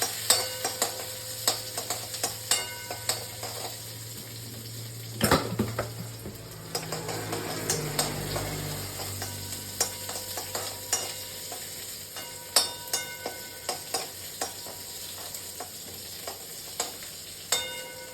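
Onions sizzling and frying in hot oil for tempering, with a spoon repeatedly scraping and stirring against a pan in irregular clinks.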